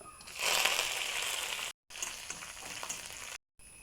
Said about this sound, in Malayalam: എണ്ണ ചൂടായ ഒരു ടീസ്പൂൺ കടുകിട്ട് ഒന്ന് പൊട്ടിച്ചെടുക്കുക അതിലേക്ക് ഒരു ടീസ്പൂൺ ഉഴുന്ന് ചേർക്കുന്നുണ്ട്